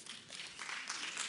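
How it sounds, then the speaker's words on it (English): Brief clapping from a crowd at an awards gala, a soft, dense wash of many hands heard from a distance, faint and alone without talk. "Yeah, we could clap for that."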